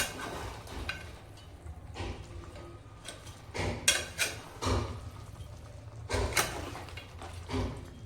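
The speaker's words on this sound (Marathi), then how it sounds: "आता मी पुन्हा एकदा हे चांगलं मिक्स करून घेते" Repeated scraping and clanking of a utensil mixing chicken in a pan, irregular strokes close by over a low background hum.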